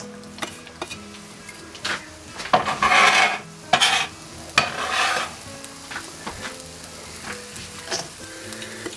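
Chopped onions go into a hot pan for Filipino garlic fried rice (sinangag) and sizzle steadily, with bursts of louder frying as they are stirred and a few light clinks of utensils against the pan.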